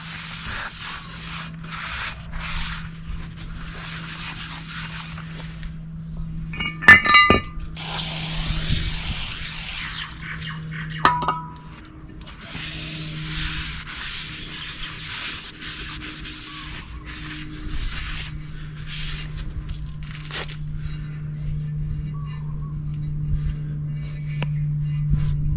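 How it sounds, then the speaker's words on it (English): Aerosol brake cleaner hisses onto a car's rear brake rotor in several bursts, with faint clanks between them and a low hum underneath. "I'm going to clean it up using some brake clean. Make sure to get rid of any oil on the rotor."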